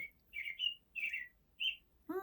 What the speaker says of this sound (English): Can you identify the bird?